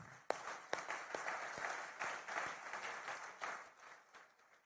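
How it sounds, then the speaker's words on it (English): Audience applause at a businesswomen awards ceremony, a steady wash of clapping with a few sharper individual claps standing out, heard at moderate distance and fairly quiet. "I think they all deserve a good round of applause"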